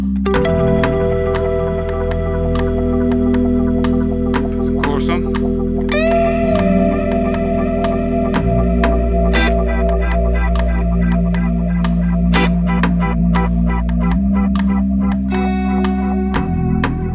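Layered, looping guitar through a Boss RC-505 looper and effects, with distortion, echo and reverb building a sustained wash of repeated notes and strums, steady and loud throughout.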